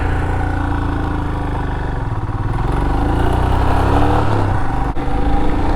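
Royal Enfield Himalayan motorcycle engine pulling in first gear on a road ride, a steady loud mid-pitched drone with rising revs and wind rumble throughout, no talk.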